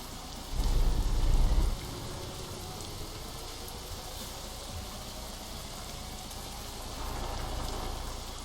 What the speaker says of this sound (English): do like the way the rain sounds on the truck, though